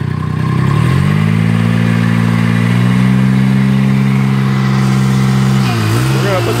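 The pony motor on a forestry bucket truck revs up near and loud, holding a steady high drone for several seconds before dipping and rising again at the end.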